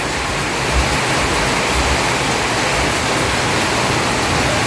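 Heavy rain pouring down outdoors near a garden, a dense, loud and continuous hiss of falling water with no pauses and no voices.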